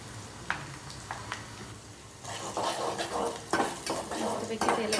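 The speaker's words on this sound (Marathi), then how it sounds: "थोड्याशा मोहरी वगैरे टाकायच्या, त्या पण छानपैकी अशा तेलामध्ये परतून घ्यायच्या आहेत" Mustard seeds and chillies frying in oil, stirred in a pot, start with a quieter crackle and light utensil taps, then swell into a louder, busier sizzle with scraping and clinks.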